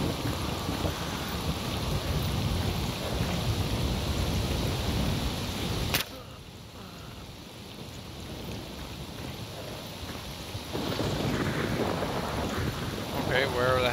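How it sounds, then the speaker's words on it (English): Steady rain hiss fills the scene in the video game Stalker Anomaly, cutting out suddenly partway through, then returning, with rumbling noise underneath. "Raining in here."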